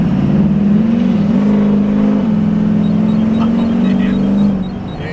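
A diesel truck engine revs up and holds a steady, droning pull for several seconds before easing off, loud and close with a whirring tone and no voices.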